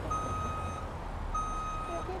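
A truck reversing in American Truck Simulator sounds its backup alarm, two steady high beeps separated by a pause, over a low, rumbling engine drone.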